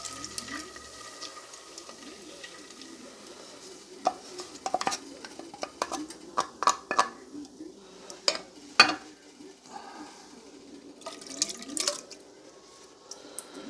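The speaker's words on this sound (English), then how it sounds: "now I'm just going to throw in the clams with the juice" Irregular wet clinks, drips and scrapes as clams and their juice are poured and stirred into a metal pan, with spoon taps against the rim.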